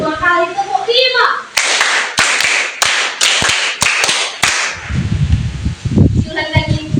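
A classroom group of children claps in unison to a counted pattern, a run of about six loud, sharp claps after a spoken count, then children's voices chatter.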